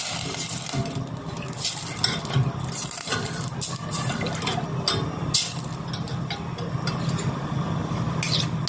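Water poured into a pot of washed rice for sayadieh, a steady close pouring and stirring wash of liquid with light clinks of the pot, continuous and alone with no talk.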